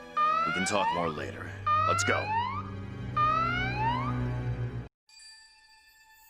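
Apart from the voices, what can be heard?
alarm sounding in the video game Valkyria Chronicles 4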